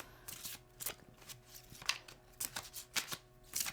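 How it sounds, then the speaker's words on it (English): Tarot cards shuffled by hand, a quick irregular run of soft riffling flutters and slaps, close and fairly quiet, with no speech. "sometimes I'm shuffling the cards and they're just falling in piles on the floor"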